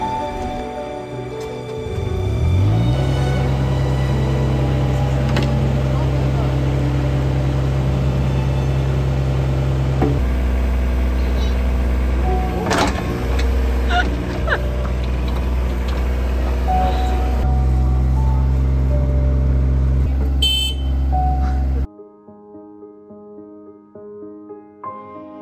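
A mini digger's engine runs steadily at a loud, constant drone with a few clanks over it, then cuts to a quieter background near the end.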